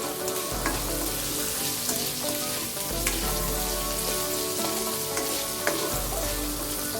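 Thickly chopped onions fry in a pan with a steady close sizzle and occasional stirring scrapes, continuous and fairly loud with no voices.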